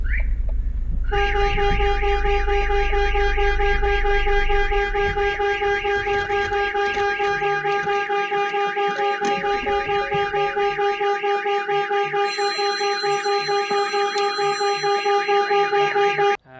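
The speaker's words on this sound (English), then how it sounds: "eventually the vehicle is going to shut down and the alarm system is going to sound" A StarLine S Series vehicle alarm sounding in a loud, steady electronic tone pattern with repeating harmonic pulses, holding on alone after a brief low rumble at the start.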